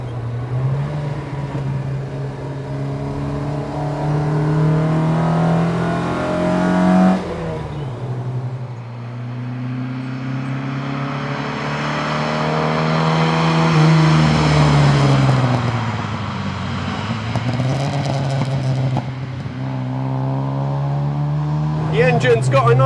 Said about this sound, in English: It's got a nice rasp to it at lower revs. It gets a little bit rough higher up the rev range